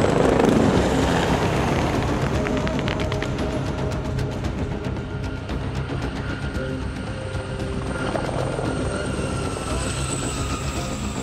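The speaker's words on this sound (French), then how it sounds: "L'appui aéromobile est constitué d'un hélicoptère d'attaque Tigre et Gazelle" A Tigre attack helicopter drones steadily with a throbbing rotor beat and broad engine roar, holding loud and constant throughout, at a French Army capabilities demonstration.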